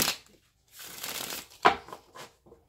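Tarot cards are shuffled in a few quick riffles and bursts, close and quiet, with short pauses and a sharp snap partway through.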